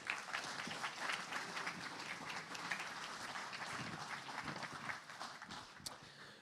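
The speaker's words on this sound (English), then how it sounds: "give the Steam Packer a round of applause" An audience at the Southern 100 road race launch event applauds the Isle of Man Steam Packet Company, a long-time sponsor; the steady crowd clapping is moderately distant and softens gradually toward the end.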